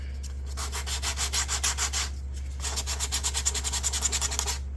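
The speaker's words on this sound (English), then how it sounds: "you'll need to get yourself a little sanding block" A small sanding block is rubbed along a board edge while building a porch floor: steady, rhythmic scratchy strokes in two runs separated by a short pause, close and clear over a constant low hum.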